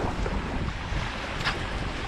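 Steady, roaring wind buffets the microphone on the seashore while sea bass lure fishing with feet in the water, a continuous broadband rush with faint surf underneath and no voices.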